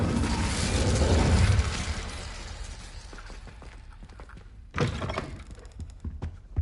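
A burst of spell fire from Hogwarts Legacy opens with a broad whooshing roar that fades, followed by scattered thuds, clicks and a second sharp impact later on.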